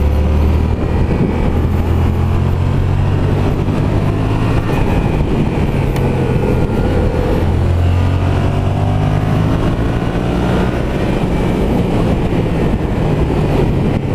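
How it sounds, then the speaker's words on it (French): A Yamaha XSR 700 twin-cylinder motorcycle being ridden, its engine droning loud and steady throughout, with pitch rising and falling through gear changes and engine braking. "ça fait bizarre de repasser sur un bicylindre comme ça"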